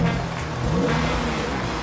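A diesel Porsche Cayenne engine starting and settling into a steady, moderately loud running note close by, with a slight rise in revs, and no talking.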